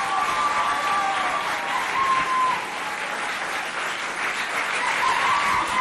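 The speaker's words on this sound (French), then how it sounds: "S'il vous plaît, on les applaudit bien fort." Audience at a high school quiz competition in Sarh, Chad, applauds loudly, a dense wash of clapping with a few whistles and cheers, sustained for several seconds.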